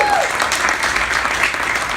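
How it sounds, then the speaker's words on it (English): Applause fills the room at a 2017 Carrboro mayoral debate event, a brief, loud, steady burst of clapping from the crowd, with a voice faintly audible at the start. "let's give the Cradle a round of applause"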